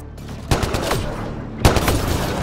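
Gunfire in the Mass Effect Andromeda video game: two loud, sharp shots about a second apart, each followed by short rattling echoes and a whizzing tail, with no talk.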